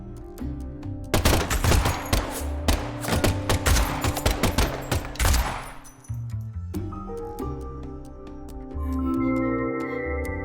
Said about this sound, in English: And the last gunshot we heard sounded ominous, Zack.